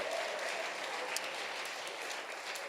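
Audience applause at a live comedy show, a dense, even patter of many hands clapping at moderate distance, steady and unbroken throughout.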